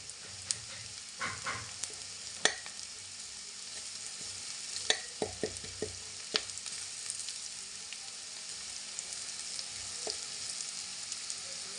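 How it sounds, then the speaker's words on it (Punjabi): Cumin seeds roasting in a pan with lightly browned onions for bhindi sabzi give a steady, close sizzle, broken by sharp scraping clicks of stirring and occasional pops. "ਥੋੜਾ ਜਿਹਾ ਜੀਰਾ ਪਾ ਲੈਂਦੇ ਹਾਂ ਜੀਰੇ ਨੂੰ ਭੁੰਨ ਲੈਂਦੇ ਹਾਂ"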